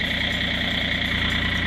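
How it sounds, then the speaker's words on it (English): A Yanmar diesel engine idles steadily while warming its oil before an oil change, giving a constant, close, even rumble with a faint rhythmic knock and no voices. "So I have the motor running right now"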